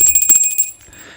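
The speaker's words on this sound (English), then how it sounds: "let's ring that magic bell" A small bell rings in a quick bright flurry with a sustained high tone, then cuts off and leaves quiet room sound.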